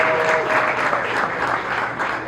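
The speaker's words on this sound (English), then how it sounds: "Give it one more hand clap for Irma Holloway." An audience at a riverfront exchange event gives a round of hand clapping for an honoree, a full, steady burst of applause with a faint crowd murmur underneath.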